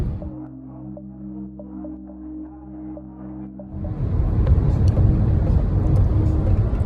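A car driving on the road at dawn, with a steady engine hum at first, then a louder, broad rumble of road and tyre noise that continues to the end.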